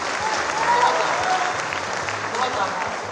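Audience applause at a Hindi poetry recital, a dense, steady wash of many hands clapping throughout, loud and continuous with a faint crowd murmur beneath.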